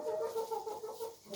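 Hens cluck in a small pen that also holds a rooster, a run of repeated close, moderately loud clucks without any voices.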